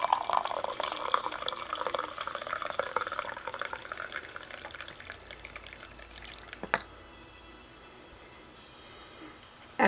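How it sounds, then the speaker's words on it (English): Hot water poured into a heat-activated 1986 Phantom of the Opera coffee mug, a steady close splashing and trickling stream that thins out near the end, with one sharp clink partway through. "So if you pour hot water in there,"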